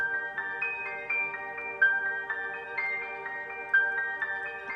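Synth arpeggiator in FL Studio with a stereo effect, playing a steady rhythmic pattern of bright repeating notes over a sustained tone, moderately loud and alone.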